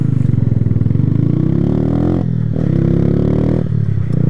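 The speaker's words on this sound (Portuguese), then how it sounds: "é só você ver o barulho do motor" A motorcycle engine revs hard and steadily, its pitch climbing, dipping briefly, then rising again, loud and close throughout.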